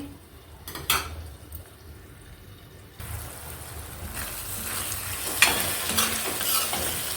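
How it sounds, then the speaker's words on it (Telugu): Prawns and ridge gourd fry in oil for a curry. A quiet simmer with a pan clink gives way to a louder, fuller sizzle that keeps going with occasional stirring scrapes, close and without talking. "బీరకాయలు రొయ్యలు బాగా వేగిపోయినాయి. నూనె కూడా బాగా పైకి తేలింది."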